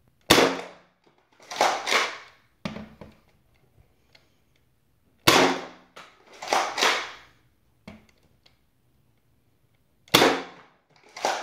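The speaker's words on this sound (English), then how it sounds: "I've shot a few darts through it from a Chrono" A HandCannon dart blaster fitted with a Cycloneshock extended cylinder fires darts through a chronograph: sharp, close pops arriving in three groups of quick shots, each followed by short mechanical clicks, with silence between volleys.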